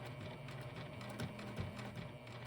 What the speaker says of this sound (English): I'm just gonna go over the stitches at the beginning again